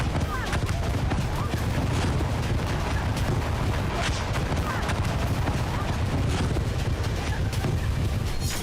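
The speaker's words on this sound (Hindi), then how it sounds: "अचानक आसमान से क्लस्टर बम गिरने लगते हैं।" Cluster bombs exploding over a beach at Sevastopol in Crimea, a dense, continuous crackle of rapid blasts and pops at steady loudness throughout, like sustained gunfire, with no clear pause.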